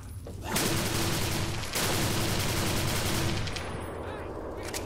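Sustained automatic gunfire from a modded gun in Fallout 3 roars loud and continuous in two long bursts with a brief break between them, then trails off into a softer tail.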